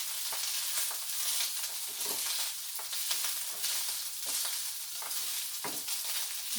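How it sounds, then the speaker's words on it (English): A cup of rice fries in a pan, a steady close sizzle with the scrape and clatter of stirring breaking through now and then, and no voices. "So I am going to put my cup of rice in there and fry it pretty well."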